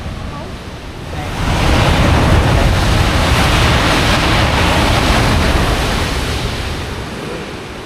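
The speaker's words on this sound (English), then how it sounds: "we stood in awe of a spectacular and thunderous blowhole" Ocean waves surge through a coastal blowhole at Shark Bay in Western Australia, a loud, rushing roar that swells after about a second, holds steady, then eases slightly toward the end.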